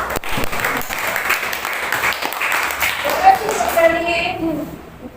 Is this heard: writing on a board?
no